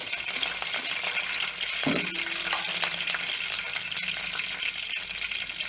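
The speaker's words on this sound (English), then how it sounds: "on a medium flame, allow it to kind of saute well." Peanuts and mustard seeds sauté in oil in a pan over a medium flame for a seasoning, giving a steady close sizzle and crackle throughout, with faint stirring and metal clinks and no talk.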